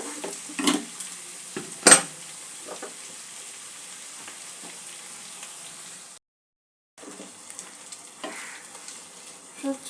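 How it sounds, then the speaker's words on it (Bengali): Vegetables and small mourala fish fry in a pan for a Bengali fish curry, a soft steady sizzle punctuated by a few sharp clinks and scrapes of a utensil stirring, briefly dropping out before resuming. "দু এক মিনিট একটু নাড়াচাড়া করে নেব।"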